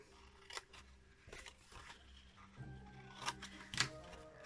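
Scissors snip through paper while a Christmas gift box is being cut out, with several short crisp cuts spread unevenly in a quiet room and a few soft rustles between them.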